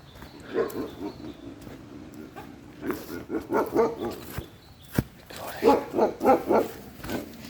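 A big dog barks in a rural farmyard setting beside a canal, a series of barks in bursts, the loudest cluster near the end, with some outdoor background noise.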